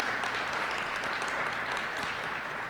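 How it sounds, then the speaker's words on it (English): A crowd at a Harvest for Hunger kickoff event applauds steadily, a dense wash of clapping that holds at an even level throughout. "Applause for that."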